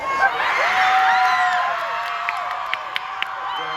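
A large audience at a VidCon Anaheim panel cheers and screams, with high whoops and shrieks over a continuous crowd roar and some voices in the mix.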